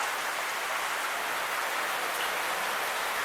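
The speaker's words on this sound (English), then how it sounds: "And it is still pouring rain." Heavy rain pours down steadily while the sun shines, a dense, even hiss of drops on surfaces with no break and no voices.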